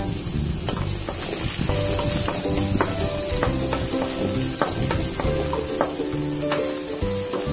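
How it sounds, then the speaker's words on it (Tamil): Chopped onion, a piece of ginger and dried red chillies sautéed in a pan, giving a steady close sizzle with repeated spatula scrapes and clicks against the pan and a low tonal hum underneath. "இப்போ வந்து இதுக்கு தேவையானதை வதக்கிடலாம்."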